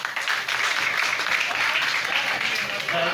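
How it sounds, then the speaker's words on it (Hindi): An audience at an Urdu poetry gathering in Kabirwala claps and applauds steadily throughout, a dense, sustained wash of hand claps with no pauses. "एक दफ़ा अपने लिए भरपूर तालियां बजाएं।"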